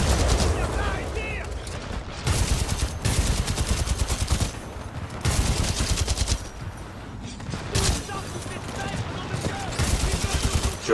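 Energy weapon fire in the video game Titanfall 2: repeated loud bursts of rapid automatic shots in clusters, with brief lulls between volleys and some game voice mixed in.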